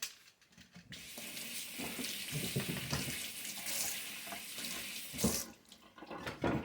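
Vegetables are rinsed under a running kitchen tap, water splashing unevenly as they are turned in the stream, starting after a brief pause and stopping near the end.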